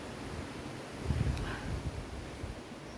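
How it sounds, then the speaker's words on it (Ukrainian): Steady, strong wind roaring across the microphone, with low rumbling gusts and a broad hiss throughout, no voices. "Але вітер страшенний, страшенний вітер."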